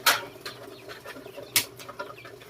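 Scattered chicken clucks and rustling nearby, irregular and fairly quiet, with a few sharper bursts like flapping or scuffling.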